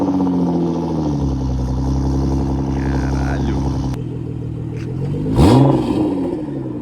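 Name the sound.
BMW with full stainless steel exhaust revving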